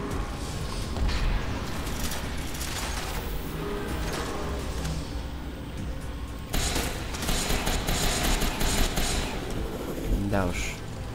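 Dense, sustained weapon fire in the video game Crysis 3 plays throughout, with loud crackling bursts and booms under game noise. The fire grows heavier in the second half.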